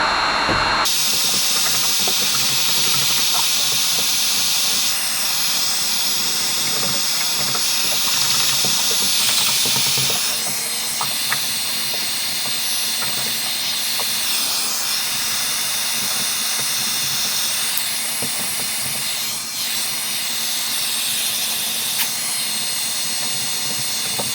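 A heat gun runs steadily to warm and loosen chrome decals on a Chevy Traverse, a loud, continuous hissing blow of hot air from start to end with only slight shifts as the nozzle moves.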